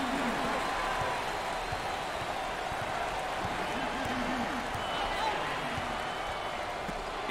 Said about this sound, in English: listen to those fans. The crowd is thunderous